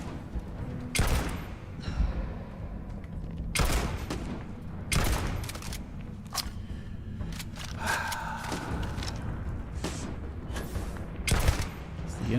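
Bursts of gunfire crack and thud at irregular intervals in a Starfield firefight, a handful of sharp, loud volleys over a low background rumble, with faint voices in between.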